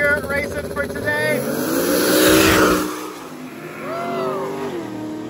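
Two Chevrolet Camaros at a rainy street drag race roar with engine revs rising and falling, loud and close, while a commentator talks over them throughout.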